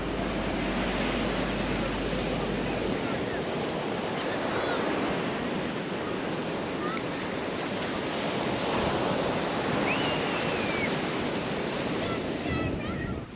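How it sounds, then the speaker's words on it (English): Atlantic Ocean surf at Wrightsville Beach, North Carolina roars in a continuous, loud wash of breaking waves, with some wind buffeting the microphone throughout. "The Atlantic Ocean and the Atlantic coast at Wrightsville Beach,"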